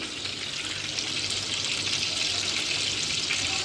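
Peshawari chapli kababs frying gently over a low flame, giving a steady, soft sizzle and crackle that holds even throughout with no voices.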